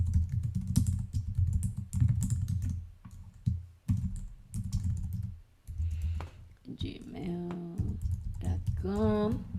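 Steady typing of an email address on a computer keyboard, a rapid run of soft key clicks heard under continuous talking.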